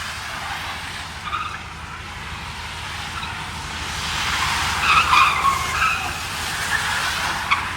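A Dodge Hellcat Redeye spins one rear tire in a one-wheel peel, giving a loud, steady tire squeal over engine roar that swells and grows rougher toward the end, with no talking.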